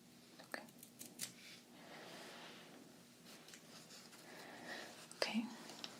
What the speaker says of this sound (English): These aren't the best scissors in the world